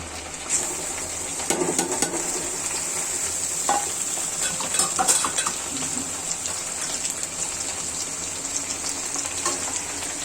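Onion and garlic sizzle steadily as they are sautéed in a pan, a continuous bright frying hiss with occasional stirring scrapes and clinks, close and moderately loud, with no talking.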